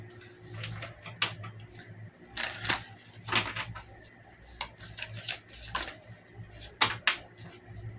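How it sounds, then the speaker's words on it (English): Tarot cards are shuffled by hand at close range, with irregular bursts of riffling and slapping card sounds separated by brief quieter pauses, and no speech. "Allow me to shuffle so we can clarify better."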